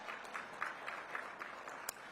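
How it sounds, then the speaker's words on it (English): Scattered audience applause at a mayoral luncheon, soft and distant, with irregular individual claps standing out over a steady wash of clapping. "Yes, we can clap for that."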